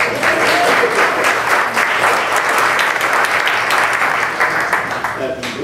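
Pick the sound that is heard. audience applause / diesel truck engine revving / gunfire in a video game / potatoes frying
audience applause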